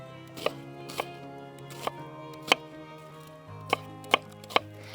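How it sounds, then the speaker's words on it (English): A knife dices an onion on a cutting board in a Nordic kitchen, with about eight sharp, irregular chops against a steady low background hum and no talking. "now we're just going to cut up the onion, get it nice and diced."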